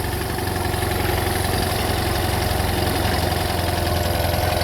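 An older single-carburetor Honda outboard motor idles steadily at close range, a continuous even engine drone with a slight rhythmic pulse that holds the same level throughout, with no voices.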